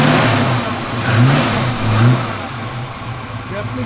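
A 1965 Ford Mustang 2+2 fastback with a 302 V8 and a mild cam running nearby, a loud steady rumble that swells slightly twice, with someone talking over it.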